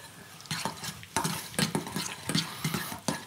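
Whole-grain mustard, oil from tinned sardines, and a pinch of pepper and salt stirred together in a small bowl, a series of close scraping, clicking strokes of a utensil in an uneven rhythm.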